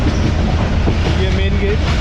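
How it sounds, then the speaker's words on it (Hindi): Mohen Jo Daro passenger train running near Sukkur in Sindh after heavy rain, a steady loud rumble of wagons with clickety-clack wheel noise and a brief thin wheel squeal, close and continuous throughout. "इसी के साथ ही ट्रेन हमारी अप्रोच बना रही है सक्खर चलने के बाद सबसे पहले स्टेशन"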